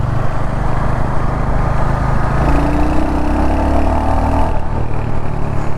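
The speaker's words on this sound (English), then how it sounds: "The exhaust note is really bassy." A 2022 Royal Enfield Hunter 350 motorcycle with a 350cc engine runs with a bassy exhaust note, a loud, steady low rumble close to the microphone with a brief rising rev partway through, no talk.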